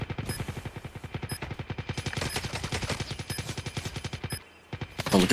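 Rapid automatic gunfire from Call of Duty Mobile, a steady stream of sharp, evenly spaced shots rattling for several seconds, briefly pausing near the end before another burst.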